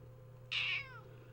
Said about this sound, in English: Can you hear her purring or just meowing?